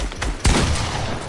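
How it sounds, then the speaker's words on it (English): Close, loud shotgun blasts from a double pump setup in Fortnite, with a sharp heavy boom about midway through the short burst of gunfire. "Say hello to the double pump."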